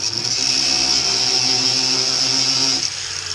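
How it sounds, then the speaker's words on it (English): An angle grinder with its guard removed cuts through ring shank nails during deck demolition, giving a loud, continuous high-pitched whine that holds steady for nearly three seconds and then drops off. "But I got the guard off my angle grinder."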